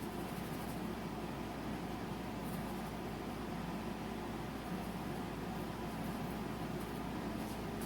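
A steady, even whooshing hum of an air conditioner running continuously in the background, with no other sounds standing out.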